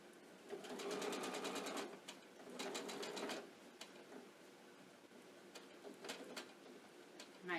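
A sewing machine stitches rick rack binding toward a corner, running in two close, fast bursts of needle chatter, followed by a few brief, softer taps as it slows near the pivot point.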